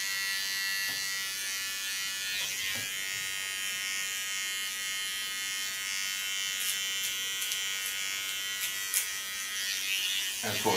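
A buzzing electric hair trimmer runs steadily and close up for about ten seconds while cutting a symmetrical neckline contour, with small shifts in tone as the blade moves along the hairline.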